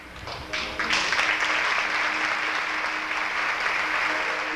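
A crowd breaks into steady applause that swells within the first second, then holds loud and even, a dense wash of many hands clapping.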